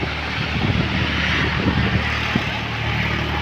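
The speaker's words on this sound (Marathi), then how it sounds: "दुसरा ट्रॅक्टर निघाला मातीचा." A tractor hauling a soil-laden trailer rumbles past outdoors, its steady engine drone loud and continuous, with broadband road and wind noise.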